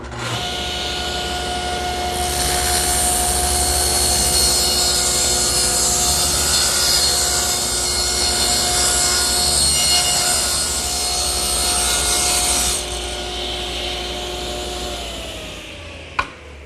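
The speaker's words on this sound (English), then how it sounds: "Now I'll just cut all the pieces." A power saw makes compound cuts in wood pieces for a mailbox project: a loud, steady motor whine with a higher cutting roar through the middle before it spins down alone.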